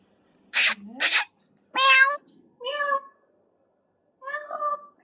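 A pregnant cat meows three times in close succession, each call clear and fairly loud, after two short sharp sneeze-like bursts at the start, with quiet pauses between.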